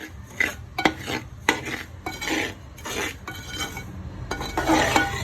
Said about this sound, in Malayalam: പാത്രം ഒന്ന് തണുക്കണ വരെ ഇളക്കി കൊടുക്കണം,